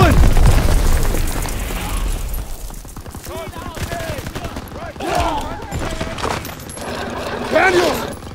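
Heavy gunfire and booming explosions fill a Call of Duty WWII battle, with a deep blast at the start, then continuous shots and rumbling impacts under shouted voices.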